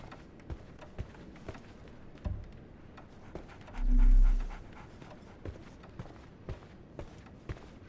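A dog pants in Sherlock Holmes The Awakened, a faint, rhythmic huffing broken by soft steps and one brief low thud.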